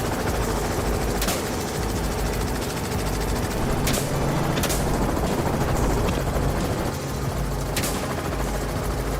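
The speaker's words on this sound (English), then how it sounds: "The gunfire rang out, the bullet struck true." A helicopter's continuous rotor roar fills a wild boar hunt, with a few sharp gunshot cracks cutting through at intervals.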